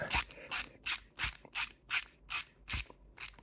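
Rhythmic rasping strokes repeat about eight times, evenly spaced, as wheel fasteners are tightened by hand on a Tamiya WR-02CB Comical Frog RC car chassis during rim assembly; close, fairly quiet, no talking.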